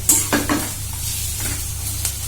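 Small fish curry with cumin powder and tamarind stirred in a sizzling pan, a steady fry hiss broken by a few scraping strokes of the spoon, close and without talk.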